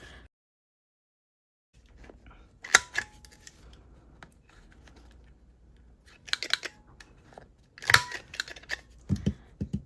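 A corner rounder cuts the corners of a journaling card made from packaging, with a few sharp close snips and clicks in short bursts between quiet handling noises.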